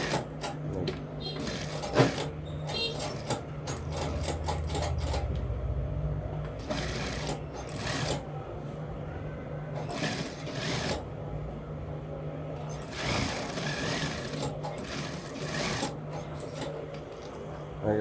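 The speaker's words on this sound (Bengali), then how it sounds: "এখন এটাতে চাপ সেলাই হবে" A sewing machine runs in bursts, stitching the seam joining a shirt's front and back panels, with short rattling runs broken by pauses and quiet handling noise.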